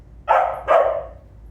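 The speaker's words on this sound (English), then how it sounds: "Now she's excited and she's going to bark a little bit," An excited puppy gives two short, loud barks close by, one right after the other, then falls quiet.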